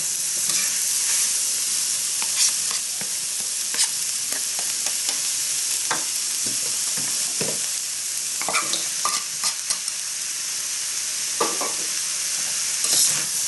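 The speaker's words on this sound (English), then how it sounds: "the only thing that we really need to cook next is the capsicum" Capsicum stir-fries for fried rice, with a continuous bright sizzle under frequent scraping and clattering from a utensil tossing it around the pan, close and steady throughout.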